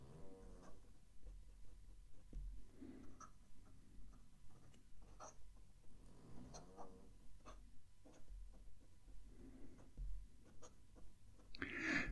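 A pen scratches across a sheet of notebook paper in a quiet room, making soft, steady strokes with faint ticking taps. The sound is close and low in level.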